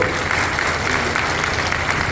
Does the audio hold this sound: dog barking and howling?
no